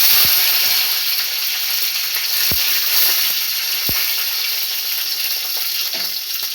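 Curry leaves drop into hot oil already holding popped mustard seeds and dried red chillies for stir-fried beans, making a loud, steady, close sizzling hiss dotted with a few sharp ticks.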